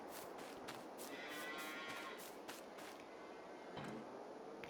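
Cows in Farming Simulator 22 moo in a long, clear drawn-out call, followed by quieter farm ambience and a faint second low moo, with no talking.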